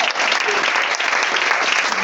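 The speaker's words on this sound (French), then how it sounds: "On va acclamer le Seigneur." Congregation at a church worship service applauding to acclaim the Lord, a dense, steady wash of many hands clapping together, loud and continuous throughout.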